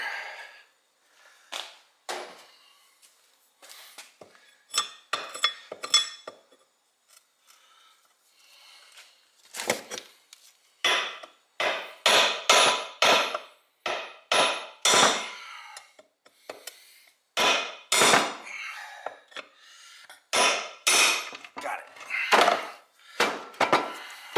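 Hammer blows driving a stuck rivet out of the front end of a 1968 Pontiac GTO A-body during teardown, loud sharp metallic strikes in irregular bursts, sparse at first then denser and steadier, close by with no talking.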